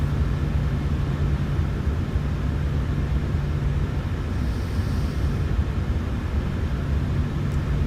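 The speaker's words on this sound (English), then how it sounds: "Cabin crew prepare for takeoff." Airliner engines during the takeoff roll give a steady, broad, heavy roar with a deep rumble, loud and continuous, with no voices over it.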